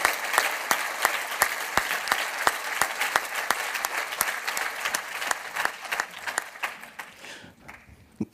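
An audience at a university open day claps for a man named Michel, a moderate, sustained round of applause that fades out near the end.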